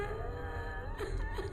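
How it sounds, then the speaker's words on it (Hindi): A girl cries in a horror story setting, a faint wavering wail and whimper drawn out over a low background, with no clear speech. "ये रोने की आवाज थी, किसी लड़की की।"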